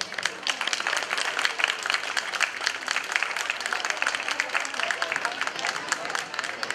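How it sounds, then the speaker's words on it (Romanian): An audience at an interethnic festival claps to welcome a children's group and an Aromanian dance ensemble from Tulcea, with steady, dense applause throughout and voices faint beneath it. "Îi putem întâmpina cu aplauze."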